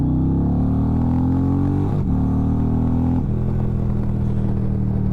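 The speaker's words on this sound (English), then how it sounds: "These sound pretty nice. They have a nice deep bass note to them." An Indian Challenger motorcycle's exhaust rumbles deep and loud while riding, with steady revs rising and then dropping at two gear shifts.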